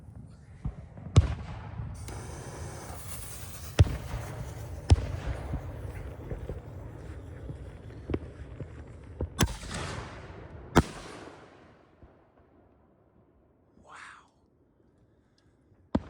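Canister shell fireworks burst in a series of loud, sharp booms amid continuous crackling and rumbling, then fade to near silence broken by a faint fizz and one last bang.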